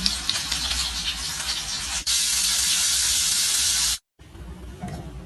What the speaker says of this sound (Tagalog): magpipirito na tayo dito ng ating isda